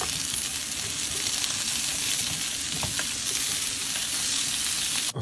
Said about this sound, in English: take the fish out the oven and put it in the skillet. We can go on and saute it